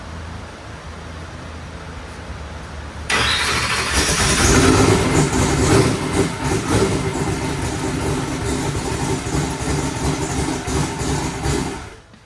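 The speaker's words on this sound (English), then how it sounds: "spin it over, see if it cranks." A boosted big block Chevy V8 with a new crank trigger cranks over for about three seconds. Then it fires into a loud, rumbling idle that swells in revs and runs steadily close by until it cuts off abruptly.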